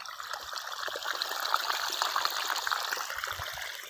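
Water from a borewell trickles and splashes steadily, close and continuous, with a bright bubbling texture and no voices.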